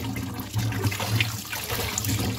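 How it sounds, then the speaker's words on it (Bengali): Leafy greens are rinsed in water, with close, continuous splashing and trickling that swells and eases in short bursts. "শাক সব ভালো করে ধুতে হয়"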